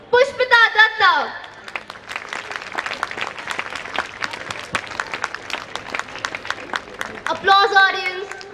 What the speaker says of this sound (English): Applause, audience.